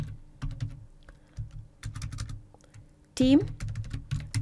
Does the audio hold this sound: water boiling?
no